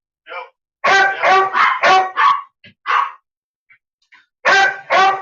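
Dog barking indoors, a short yip followed by a quick burst of four or five loud barks, two more isolated barks, a brief gap, then a final pair of loud barks close to the listener.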